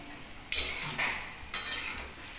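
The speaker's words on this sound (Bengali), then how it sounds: "এবার বাকিটা আমি নাড়িয়ে নিচ্ছি।" Palm fritters (tal bara) frying in a pan are stirred, giving a few distinct scraping clinks of a utensil against the pan over a faint, steady sizzle, close and moderately loud.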